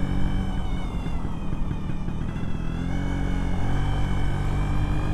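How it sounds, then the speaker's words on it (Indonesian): A two-stroke Vespa scooter engine revs up close, a loud buzzing drone climbing in pitch and holding steady, alone without talk. "Bentar, saya ngegas dulu."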